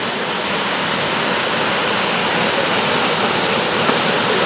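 Minnehaha Falls in Minneapolis pours down at the base where the falls wind up, a loud, dense, unbroken roar of falling water heard close with nothing else over it.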